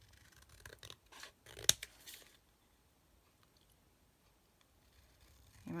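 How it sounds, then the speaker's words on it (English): Scissors snip through paper trim in a few quick, close, quiet cuts with light rustling, followed by near silence. "now I've got to cut the trim off of this"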